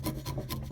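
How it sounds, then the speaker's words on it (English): A bevel-edged chisel pares waste from the bottom of a wood joint, giving a close, steady scraping rasp with a few rhythmic strokes over less than a second. "Let me use my bevel-edged chisel for removing waste and paring the bottom of a woodwork joint."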